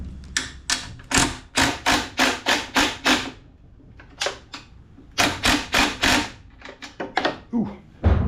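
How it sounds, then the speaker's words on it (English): Metallic ratcheting clicks from a wrench turning a nut on a Toro 22-inch Recycler lawn mower, model 20378, come in quick repeated bursts, close and fairly loud, with pauses between runs. "Just get your wrench down there and just grab a hold of that nut and hold it."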